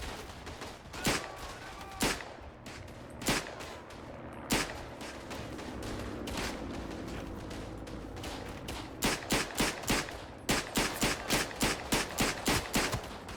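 Gunfire in the World War I shooter game Verdun: scattered single rifle shots ring out close by, then rapid strings of sharp cracks pile up toward the end, with no voices over them.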